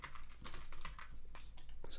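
Rapid clicking keystrokes on a computer keyboard while text is edited in a web page builder, a steady, slightly uneven patter of close, quiet taps with no voice.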